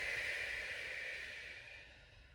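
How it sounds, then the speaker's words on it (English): A long, slow breath out during a hip lift exercise, a soft airy hiss close by that gradually fades over a couple of seconds. "Last breath out."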